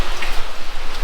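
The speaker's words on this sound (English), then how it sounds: "And as y'all can see, it is raining." Rain falls steadily outside a shop yard with a broken-down Dodge, a dense continuous hiss of drops on surfaces, close and even, with no voices.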